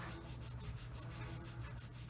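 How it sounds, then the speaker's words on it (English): Soft, rapid rubbing strokes of sandpaper on a plastic 1/48 Revell F-15C Eagle model kit where seams were filled with sprue goo, quiet and close, a continuous scratchy back-and-forth with no talking. "that is sanding really nicely using that sprue goo"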